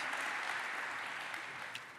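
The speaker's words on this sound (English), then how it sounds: "Let's have a big round of applause for the team, our dedicated team." Applause from a graduation ceremony audience for a physical therapy team, a steady even patter of many clapping hands throughout, moderately distant and slowly fading toward the end.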